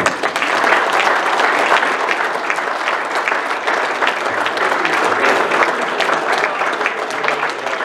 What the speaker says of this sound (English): please join me and give yourself a round of applause